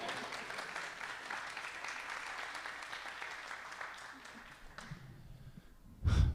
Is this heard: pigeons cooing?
no